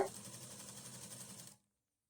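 A sewing machine stitching a half collar, a steady fast mechanical whir running about a second and a half before stopping abruptly into silence, close and quiet.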